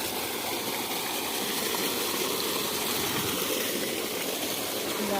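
Water gushes steadily from an opened farm water tank in a field. The rush is continuous and loud, a broadband torrent with no pauses, and no voices are heard over it.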